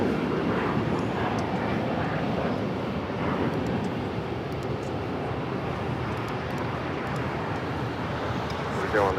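An Alaska Airlines jet heading for a south side takeoff at LAX rumbles continuously with a broad, moderately loud engine roar, while a voice talks over it.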